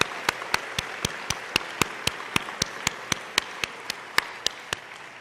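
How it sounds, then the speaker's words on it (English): A conference audience at an education summit opening session claps in unison, about four sharp, evenly spaced claps per second, steady and rhythmic across the room with no talking. "I think we need to applaud one more time"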